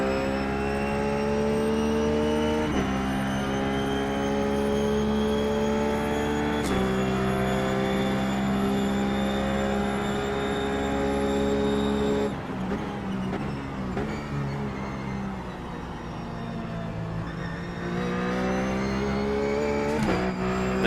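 Ruf GT3 race car engine at Sebring in the iRacing sim, a loud sustained harmonic engine tone that climbs through gears with distinct upshifts and drops as the car brakes and downshifts, running continuously without talk.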